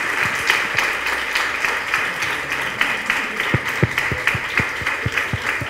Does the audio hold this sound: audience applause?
yes